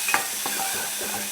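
Ingredients with curry leaves stir-fried in a pan for cumin sambar, a steady close sizzle with scraping stirring strokes and no talk.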